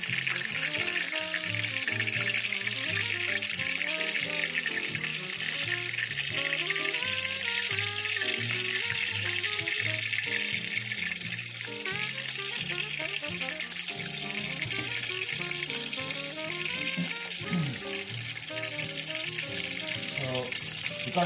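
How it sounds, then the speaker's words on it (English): Chicken cordon bleu frying in very hot oil gives a loud, constant sizzle that fills the whole stretch, with a faint musical backing underneath. "Because the oil is heated up a little too much, I'm going to have to flip it multiple times to make sure it cooks evenly and doesn't burn."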